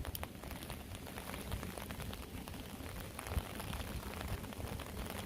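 Steady rain falls on a Philadelphia street, a constant broadband hiss with scattered drip taps and one sharper thud, fairly close and loud throughout with no talking.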